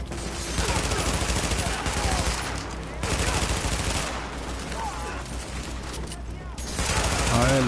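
Sustained gunfire from Tom Clancy's The Division, loud overlapping bursts and rapid shots throughout, with brief lulls between volleys and voices talking over the shooting.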